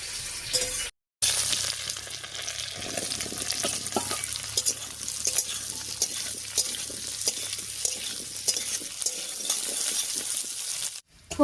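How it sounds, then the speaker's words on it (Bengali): Potatoes fry on top of tempered spices with onion in a hot pan, a steady close sizzle running throughout with scraping stirs and clinks and one brief break in the sound. "ফোড়নের উপরে আলুগুলো দিয়ে একটু ভাজা ভাজা মতো করে নিয়েছি"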